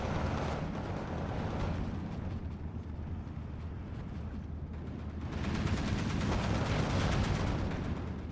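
Machine gun fire rattles steadily through a Steel Division 2 forest battle, dense bursts of gunfire and distant explosions blending into a continuous loud barrage that swells further midway through, with no talking.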